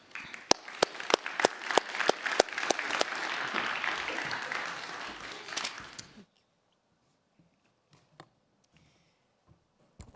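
An audience gives a burst of applause to welcome a speaker at a North American book launch held at a university faculty in Toronto; dense clapping lasts about six seconds and then stops abruptly, leaving a quiet room with a few faint knocks.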